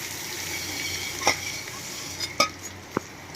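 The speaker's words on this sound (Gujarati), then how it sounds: "હવે આપણે એમાં મમરા એડ કરી દઈશું" Puffed rice tipped into a hot tempering of cumin, curry leaves and turmeric, a soft steady sizzle broken by a few sharp spoon clinks and scrapes against the pan.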